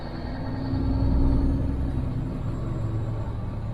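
A classic, fully mechanical Peterbilt 359 semi truck picking up speed on cruise control, its diesel engine a loud, steady low rumble that swells slightly and then holds, heard from inside the cab with no talk.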